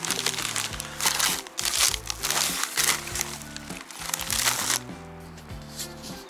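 Solar cables are unpacked from their packaging, giving close, busy crinkling and rustling of plastic wrap with bursts of crackle that thin out toward the end.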